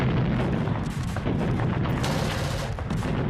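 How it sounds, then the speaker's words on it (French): Enemy gunfire raking Normandy landing craft during the D-Day assault, a dense continuous roar of booming shots and rattling fire with no pauses, loud throughout. "les péniches de débarquement sont prises sous les tirs ennemis"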